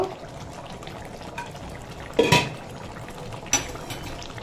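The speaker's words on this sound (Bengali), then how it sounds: "এবার ঢাকনাটা খুলে নেব।" A metal lid is lifted off a cooking pot of prawn-stuffed pointed gourd (potol dolma): one short metallic clank with a brief ring midway, then a lighter clink, over a quiet kitchen background.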